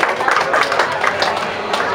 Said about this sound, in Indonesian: Tepuk tangan buat Raptor dulu.